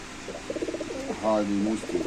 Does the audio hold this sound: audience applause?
no